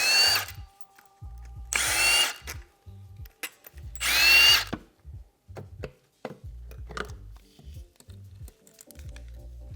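A power tool backs out bolts on a pit bike's flywheel cover in several short, loud bursts separated by pauses, close up.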